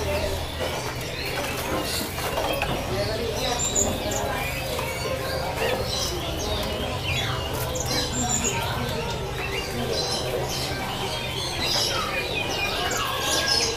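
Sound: orange songbird (mantenan oranye) chirping

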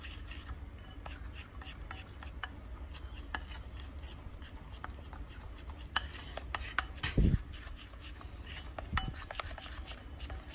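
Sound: mixing aloe vera gel into a DIY face pack with a spoon

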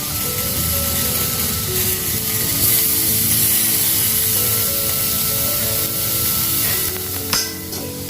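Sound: chicken frying in a pan for chicken soup

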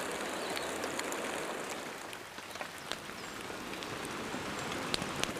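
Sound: rain

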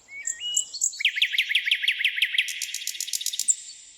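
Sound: nightingale singing, story sound effect

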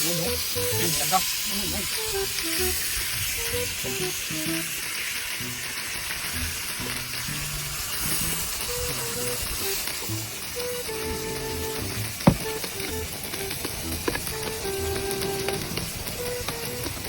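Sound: pork sisig sizzling and crackling on a sizzling plate

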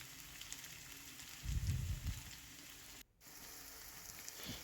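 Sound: potatoes frying in oil

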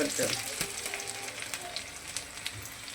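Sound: ginger sizzling as it is added to hot oil

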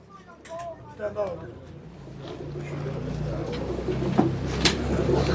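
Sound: pigeons at a bird auction

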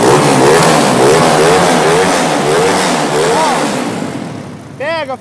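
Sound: 240cc motorcycle engine starting and revving

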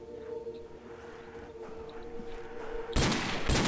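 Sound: gunfire from video game World at War zombies

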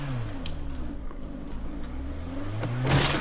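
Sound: car engine revving in video game State of Decay 2

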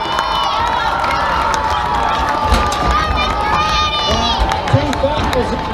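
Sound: audience applauding and cheering for parents

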